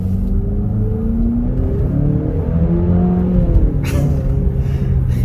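A small four-cylinder engine in a 2025 Nissan Murano revs under acceleration, a steady droning rumble with rising pitch sweeps, heard from inside the cabin over the whole stretch.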